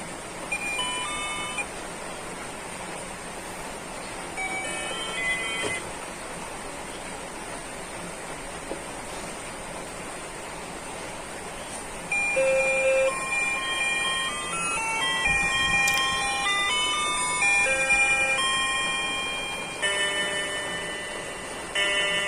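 The alarm of an Ajantha pendulum clock rings as a steady electronic beeping tone, continuing for several seconds and growing louder in the second half, heard close up indoors with no talking.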